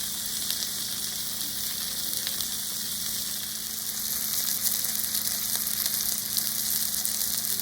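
Potatoes sizzle steadily in melted butter in a pan, a continuous close hiss with fine crackles running unbroken throughout, no voices.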